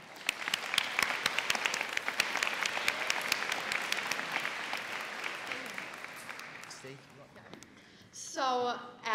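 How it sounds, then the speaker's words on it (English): Audience applause at a high school senior convocation, a lively burst of clapping that gradually fades over several seconds before a voice begins speaking near the end. "Let's give one last round of applause for all of them."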